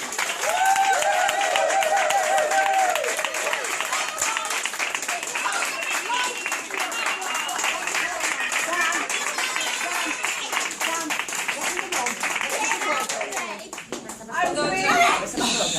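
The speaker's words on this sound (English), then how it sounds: "Put your hands together and give a big round of applause to Ron Sutton" Book launch audience applauding for author Ron Sutton, dense sustained clapping from a roomful of people, loud and continuous, with voices, a child's chatter and light chuckles mixed in, fading near the end.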